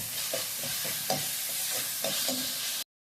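Chopped tomato being stirred in a hot frying pan for Kerala-style chicken perattu, a steady broadband sizzle with several distinct spoon scrapes and knocks, close and moderately loud, cutting off abruptly near the end.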